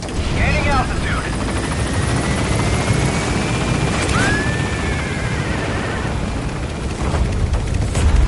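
A support helicopter lifts off in Metal Gear Solid V, its rotor roar loud and steady throughout, with a rising whine sweeping past midway and radio voices talking over it.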